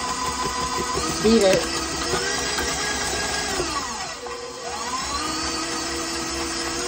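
An electric mixer creaming raw edible cookie dough in a bowl, a steady whirring motor hum that shifts slightly in pitch as it works, close and continuous with a brief clatter.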